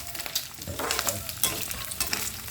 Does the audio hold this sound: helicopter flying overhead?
no